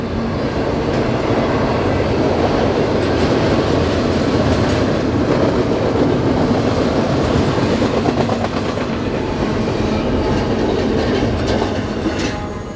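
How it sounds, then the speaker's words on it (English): A train rolls past along the historic Route 66 rail line in Arizona, a loud, steady rumble of wheels and cars with rhythmic clacking that holds for the whole stretch and eases slightly at the end, with no one talking. "we'll let this train finish going by here"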